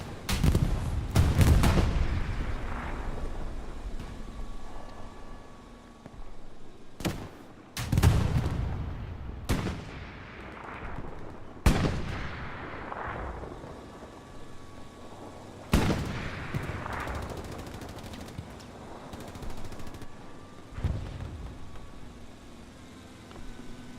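Tank shells and gunfire boom across an Omaha Beach battle in the Hell Let Loose game. Loud, sharp blasts come at irregular intervals, each trailing off in a rumbling decay, with smaller shots scattered between them.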